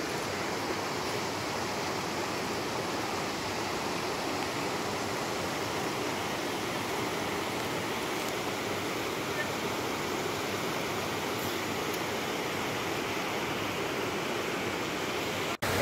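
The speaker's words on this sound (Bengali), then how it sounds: "গঙ্গা বয়ে যাচ্ছে বা ভাগীরথী যেটাই বলুন না কেন" Steady broadband rush of the Ganges (Bhagirathi) river flowing past the bathing ghat at Gangotri, a continuous, even roar of fast water with no pauses, close and fairly loud throughout.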